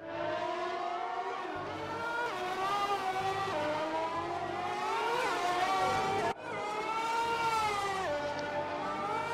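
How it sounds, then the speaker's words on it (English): Formula 1 race car engines at the 1998 Brazilian Grand Prix, high-pitched screaming revs rising and falling through gear changes, loud and continuous, with broadcast commentary faintly underneath. "He's just lost grip, trying to put some power down to those wheels"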